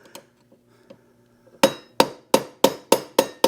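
A hammer taps a brake component on a 1985 Honda 200X, about seven sharp metallic clinks in a steady rhythm, close and loud, after a few faint knocks.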